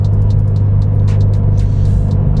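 A car driving along a slick road before any suspension upgrades: a loud, continuous low engine and tire rumble from inside the cabin, with scattered brief hissy splashes and ticks over the top and no talking.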